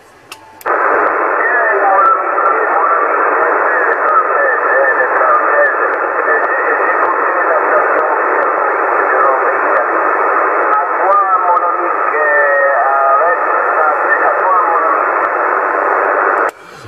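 Amateur radio contact on the 27 MHz CB band heard through a receiver: a steady band-limited hiss of static and interference with faint warbling voices buried in the noise, continuous and loud for the whole stretch before cutting off.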